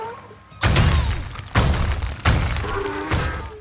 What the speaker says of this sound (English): This sturdy statue-like item is dropped from the sky and then smashes through the landscape until it hits the water.